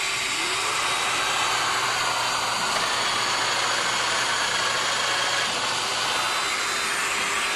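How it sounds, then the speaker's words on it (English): A dust-collection vacuum switches on together with a woodworking slot-cutting machine at a woodworking trade show, giving a loud, steady whooshing roar with a motor hum that runs unbroken throughout. "This activates the vacuum at the same time."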